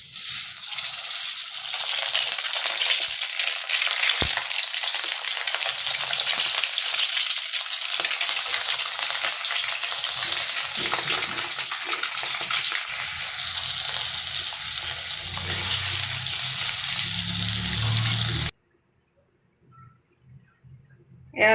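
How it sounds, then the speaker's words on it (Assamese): Eggs and potatoes frying in hot oil in a wok, a loud, continuous bright sizzle with occasional stirring scrapes, then a sudden cut to near silence at the end. "এতিয়া মই কণীকেইটা আৰু আলুখিনি ভাজি লম"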